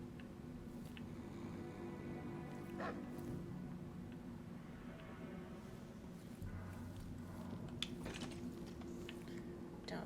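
Dogs bark and yip intermittently in the Dishonored 2 video game, fairly faint and distant over a low ambient hum, with a few sharp clicks mixed in.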